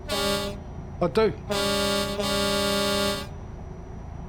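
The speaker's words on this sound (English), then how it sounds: "I've got the train horn on this." A train-style horn fitted to a truck in the driving game Euro Truck Simulator 2 blares in long, loud harmonic blasts, a short one, then two sustained honks, with a brief spoken word between them.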